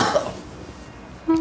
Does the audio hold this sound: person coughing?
yes